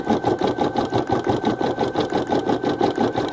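An Ellure Plus embroidery machine stitches a photo design with a fast, steady, rhythmic mechanical chatter and a hum underneath, close and loud, with no voices.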